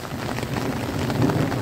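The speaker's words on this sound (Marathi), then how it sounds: "पावसाचं प्रमाण अगदी कमी झालं पहा." Rain falling in a light, even patter that sounds close and steady through the brief moment, with no voices.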